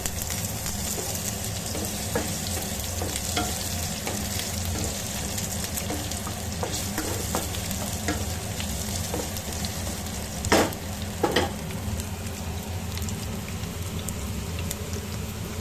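Potatoes frying with coconut in a pan for homemade ghugni, a continuous close sizzle with intermittent scraping strokes as they are stirred, two louder clatters near the end.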